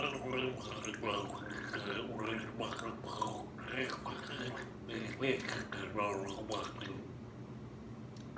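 Someone gargles water in a bubbly, throaty way, the gurgles rising and falling like a hummed melody of a song tune, close up and continuous.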